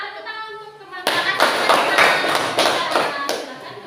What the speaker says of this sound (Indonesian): silakan tepuk tangan untuk teman-teman.